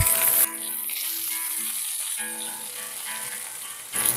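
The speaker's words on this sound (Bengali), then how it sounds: "আমি 3 মিনিট মিডিয়াম ফ্লেমে সবজিগুলোকে ভেজে নিচ্ছি" Vegetables including beans fry in a pan on a medium flame, giving a steady close sizzle that holds throughout, with a brighter rattling hiss at the start and end.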